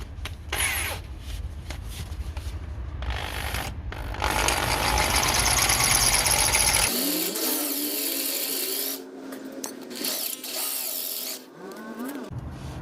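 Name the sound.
power drill drilling out a bolt head on a brake disc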